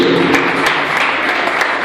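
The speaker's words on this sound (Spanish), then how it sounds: "Démosle ese aplauso a Dios." A church congregation at a Venezuelan apostolic youth service claps loudly and steadily in sharp repeated beats, filling the room without pause.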